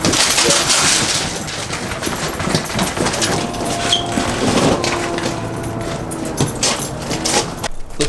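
A Yamaha Banshee 350 two-stroke engine with a fuel leak runs in a loud, continuous, crackling rattle, close by, with slight variations in pitch and no talking over it.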